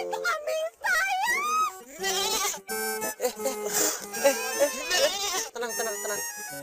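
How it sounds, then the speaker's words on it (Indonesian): A goat bleats in a few wavering, drawn-out cries amid people talking, the calls rising and falling over a steady outdoor background. "Itu kambing saya."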